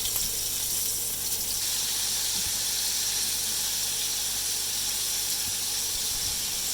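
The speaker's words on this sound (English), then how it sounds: "and then put it into the hot oil that we've been seasoning with the cashews and the peppers" Flour-dredged chicken sizzles in hot oil seasoned with cashews and peppers, a steady broad hiss that stays even throughout, with a few faint ticks and clinks from the pan; no talking.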